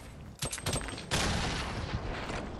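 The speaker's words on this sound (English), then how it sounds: "He's in there with a fucking grenade launcher" Rapid, dense gunfire and explosive bursts from a Fortnite firefight, including a grenade launcher, with a few sharp blasts standing out over a constant loud roar of battle, no voices.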